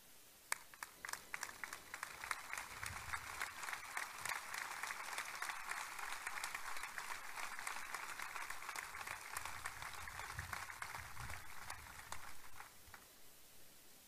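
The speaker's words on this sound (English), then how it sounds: "Would you please join me in a round of applause for all of them?" Sustained applause at a ceremony honoring Vietnam War veterans at Fort Moore, a dense steady wash of many hands clapping from a crowd, lasting several seconds before tapering off at the end.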